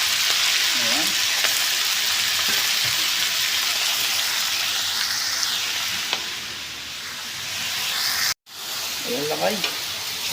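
Shredded cabbage sautés in a hot pan, a loud, steady sizzle with occasional stirring clatter, briefly cut off near the end, while someone speaks faintly in a few spots.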